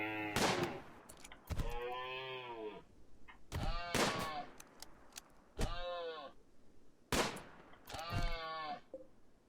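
Bursts of gunfire in the colony game RimWorld, several loud rapid volleys spaced a couple of seconds apart, each trailed by bleating from an alpaca or similar livestock caught in the fight.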